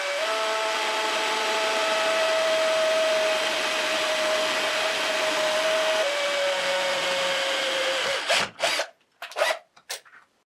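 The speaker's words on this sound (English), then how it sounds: "I have to make a hole in the metal leg." Drill boring a hole in a metal leg, a steady close whine with a sustained tone lasting about eight seconds, then stopping abruptly into a few short bursts and knocks.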